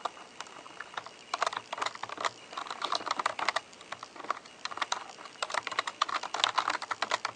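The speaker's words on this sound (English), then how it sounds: "I gotta put this down so I can do some heavy duty typing" Heavy, rapid keystrokes clatter on a computer keyboard in a dense, uneven burst that runs unbroken for several seconds, fairly close and with no voices.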